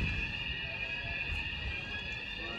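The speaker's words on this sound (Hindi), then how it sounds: "अलार्म देखो पूरे बज रहे" A fire alarm rings continuously inside an accommodation building in Leicester, a steady electronic tone holding at an even level throughout, with rumbling background noise underneath and no clear speech.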